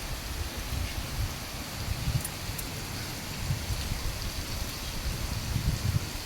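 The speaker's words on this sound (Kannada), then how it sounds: "ತುಂಬ ಜೋರಾಗಿ ಬರ್ತಾಯಿದೆ ಮಳೆ ಇವತ್ತು" Heavy rain pouring steadily outdoors, a dense, continuous wash of drops with a low rumbling hiss, gusty and even throughout without pause.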